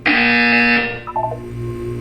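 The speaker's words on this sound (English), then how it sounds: "You will hear a buzzer." A loud, harsh buzzer sounds in an Aperture Science test chamber in the video game Portal 2. It holds for most of a second, then stops abruptly and leaves a low hum with brief tonal blips.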